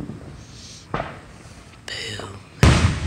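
Fourth of July fireworks: a few sharp bangs spaced about a second apart, with the loudest burst at the end, amid faint voices and background noise.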